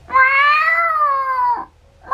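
A long, drawn-out meow followed by the start of another, loud and close, with a clear crying tone.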